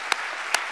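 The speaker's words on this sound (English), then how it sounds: "give him a huge round of applause anyway" Applause from a city council audience at a mayor's budget address in Philadelphia, a brief burst with two sharp claps standing out over a steady wash of hand noise.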